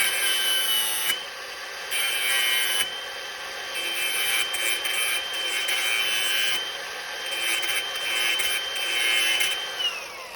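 A power tool cuts off a bolt head on the front end of a Thunderbird, giving a steady, loud, high grinding whine that dips briefly and resumes, heard close with no talking.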